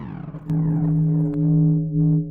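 A Portal VST plugin sound: a sustained synth tone with a strong steady pitch and rich overtones, entering with a sharp attack and holding for about two seconds, loud and alone.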